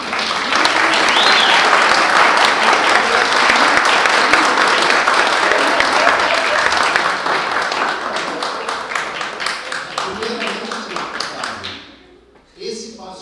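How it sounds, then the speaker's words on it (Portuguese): Loud, dense applause from a lecture audience rises quickly and holds steady, then thins into scattered individual claps before fading out near the end, with speech murmuring beneath. "Vamos aplaudir o Otávio."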